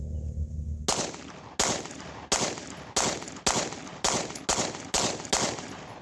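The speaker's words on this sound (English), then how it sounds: "I'm gonna go ahead and shoot this target right here." Rapid string of about ten loud, sharp gunshots from a Combat Armory CA19 firearm at a shooting range, fired at a steady quick pace, each crack ringing out briefly before the next, with no talking.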